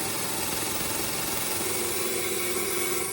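A saw grinding to the end of a cut through hard pounamu (New Zealand greenstone) while carving a toki, a steady, close, continuous whine with a constant hum and no talking.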